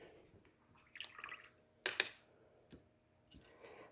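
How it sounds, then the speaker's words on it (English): A small water spray bottle mists paints with two quick sprays close by, each a brief hiss, separated by a short gap among faint drips and soft handling sounds. "I have just like a little water bottle here, and I give them a little mist"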